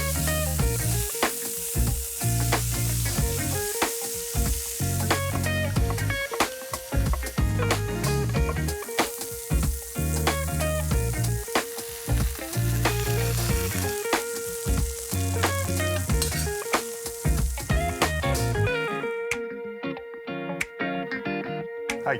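Pork neck steaks searing in a hot pan, a loud, dense sizzle with constant popping and crackling that holds steady for a long stretch before easing slightly at the end, close up.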